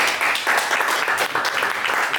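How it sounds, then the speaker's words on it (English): Studio audience applause on a talk show, dense, loud and close, with steady clapping filling the whole short stretch without pause. "I just want to take this time to give a round of applause"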